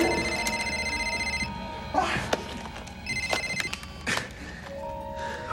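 A telephone rings in a movie scene, repeated bursts of bright electronic ringing separated by short pauses, with thumps and scuffling noises between rings.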